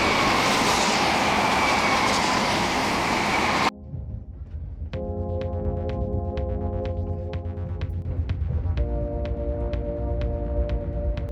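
A loud rushing roar of a passenger train in France cuts to a rhythmic clickety-clack of wheels over rail joints, steady and close, with a tonal hum underneath, nearing Montpellier.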